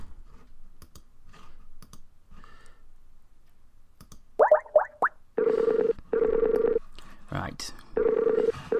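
A quick run of electronic dialing beeps, then repeated ringing tones in steady bursts, with a brief spoken word in between.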